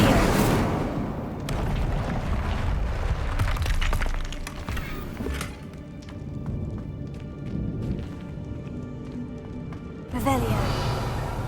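Incendio fire spell cast in the Hogwarts Legacy video game, loud whooshing bursts and fiery crackles amid dense game combat sounds, with a voice shouting the spell name and a fresh burst near the end.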